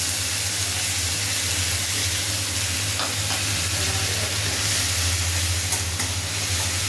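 Tomato paste sizzling in hot mustard oil with fried fish and nigella seeds, a steady dense frying hiss with faint stirring scrapes, continuous and close.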